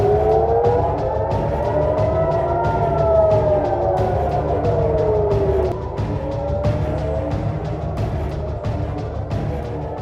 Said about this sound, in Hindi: हमलों के सायरन बजने लगे।